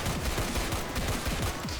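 Rapid gunfire from a weapon in the Roblox game INFECDOOM, a dense, steady burst of repeated shots that continues without pause and with no talking over it.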